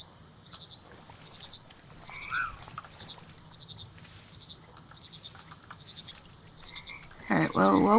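Frog croaks in the video game Mudborne, scattered short croaks and chirps over a faint ambient bed, with a louder croaking burst near the end.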